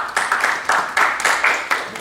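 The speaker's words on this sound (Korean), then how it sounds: "그럼 큰 박수로 맞이해 주시기 바라겠습니다" Audience clapping at an academic seminar on fire and crime safety in Seoul, heard as a steady run of close, crisp hand claps with brief swells, no voices over it.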